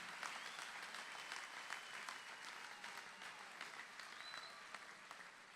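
A crowd claps at a political rally, a continuous wash of many hands that stays steady and fairly distant throughout, with individual claps popping out now and then.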